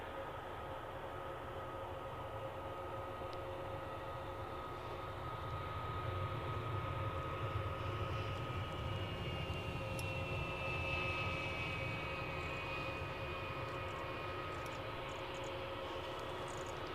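An Embraer 145 regional jet, probably a Loganair flight, at Edinburgh airport, giving a steady, fairly distant engine hum with a high whine rising midway, heard alone.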